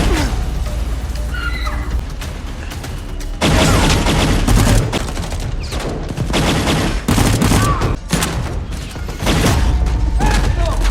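Gunfire in a war film battle scene, with dense bursts of shots and booms throughout, loud and close, along with horse whinnies and brief shouts mixed into the chaotic mix.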